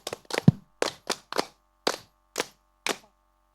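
A few people clap for a child at a Sunday school skit, giving sparse, sharp, uneven claps in a quiet room, about ten separate hits over a few seconds rather than a full ovation.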